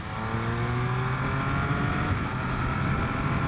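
A 2021 Triumph Speed Triple 1200 RS motorcycle pulls hard under acceleration, its engine note steady and loud with rising harmonic tones as quick-shifted gear changes pass without pause, heard up close with no voices.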